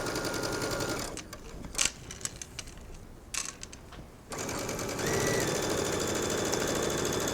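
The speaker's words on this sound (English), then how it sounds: "I'm just sewing just on the inside edge here and all the way to the hem." A sewing machine stitches a sleeve seam along the inside edge toward the hem, whirring steadily and loudly, then drops to a pause of scattered clicks and taps before the motor resumes its close, continuous drone.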